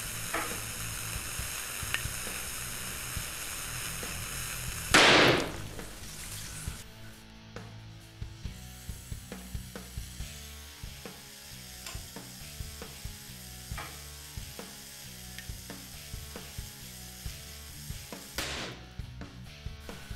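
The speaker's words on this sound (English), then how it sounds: "sodium reacts to form sodium hydroxide and hydrogen gas" A burst of fizzing and sizzling around five seconds in as a sample of sodium reacts with water, producing hydrogen gas, followed by steady crackling, ticking and bubbling, with a second brief hiss near the end.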